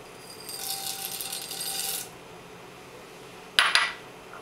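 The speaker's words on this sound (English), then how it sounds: "So I have a teaspoon of black peppercorns and a teaspoon of coriander seeds. I'm going to go ahead and put this in with the marinade." Black peppercorns and coriander seeds poured into a marinade: a hard, rattling trickle of small seeds lasting about a second and a half, then a brief, sharper clatter of seeds landing, close and fairly faint.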